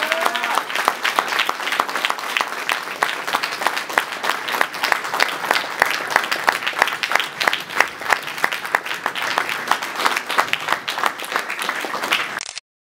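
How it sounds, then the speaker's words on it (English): Sustained audience applause at a DUF 2012 event, a dense, steady clatter of many hands clapping for about twelve seconds before stopping abruptly. "But truly appreciate your efforts for this program and applaud all that you've accomplished here with us, Ryan."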